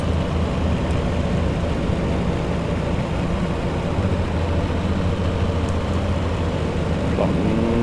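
Steady drone of the L-049 Constellation's piston propeller engines in Microsoft Flight Simulator, a continuous low throbbing hum at even loudness with no breaks.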